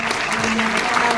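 A brief burst of steady audience applause at a school children's congress on circular economy, dense clapping throughout with a voice faintly audible underneath.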